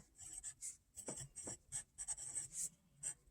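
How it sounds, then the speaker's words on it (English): A pen or marker writing on a board during a math lesson: quick bursts of scratchy stroking and tapping, close and fairly quiet, with brief pauses between strokes and no talk. "this next one, I'm going to write this down over here."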